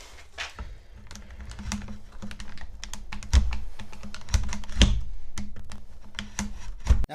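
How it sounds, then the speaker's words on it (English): Knife whittling a notch into the bottom of a wooden war club: close, irregular dry scraping and chipping clicks with sharp cuts scattered throughout, and no voices. "I'm going to try my best to whittle out this bottom notch here"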